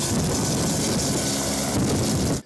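A rescue helicopter flies during a firefighter and paramedic emergency drill, its broadband rotor and engine roar loud and steady throughout before cutting off abruptly at the end, with no voices.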